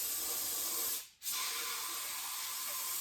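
Aerosol brake cleaner sprayed on a 1964 Ford Fairlane under repair: a steady, close broadband hiss that drops out briefly near the middle and then resumes.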